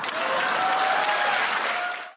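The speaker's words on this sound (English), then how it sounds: "The remark about elections in Russia was met with a storm of applause in the hall" Dense, sustained applause from a large audience fills a conference hall, steady and loud for about two seconds before cutting off abruptly.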